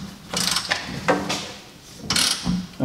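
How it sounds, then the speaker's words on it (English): A ratchet turns a bolt on a GMC truck's rear leaf springs, giving close, clattering bursts of clicks in three quick groups with brief pauses between. "Alright, I'm just gonna use a ratchet."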